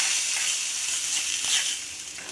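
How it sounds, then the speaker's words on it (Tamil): Mustard seeds and urad dal tempering in hot oil for a drumstick-leaf kuzhambu: a bright, steady crackling sizzle, close and continuous with faint popping, no voices. "தாளிக்கலாம்."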